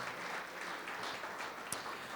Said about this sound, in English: You can applaud. It will make me feel good as an old man.